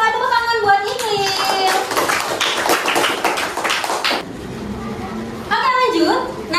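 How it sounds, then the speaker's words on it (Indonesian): Classroom applause for a student, a burst of clapping from the class in the middle, with a teacher's voice speaking before and after. "Bagus sekali, tepuk tangan buat Iqlil."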